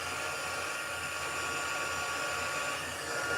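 A heat tool blows hot air steadily over embossing powder on a Stampin' Up! card project, giving a constant close whirring hiss with no talk.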